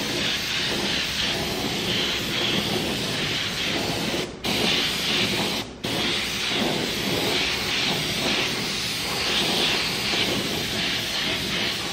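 A spray gun lays a second dusting coat of chrome paint effect, giving a steady, loud, continuous hiss interrupted by two brief pauses in the trigger.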